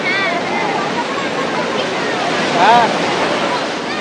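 Sea waves at Puri beach send up a steady, loud, rushing roar with wind buffeting the microphone, and a brief voice is heard over the surf.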